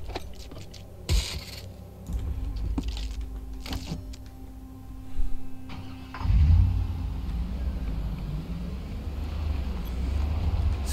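A car in the survival game Project Zomboid cranks and its engine catches, settling into a low steady idle that continues under a few clicks and clunks, all fairly quiet and without talk.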